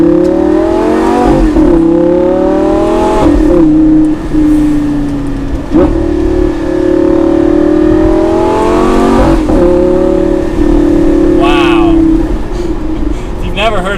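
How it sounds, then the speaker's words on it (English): Lamborghini V10 engine revving hard while driving, loud repeated climbs in pitch through the gears with brief drops at each shift, heard close from inside the car with occasional talk underneath. "Never heard a V10 Lamborghini."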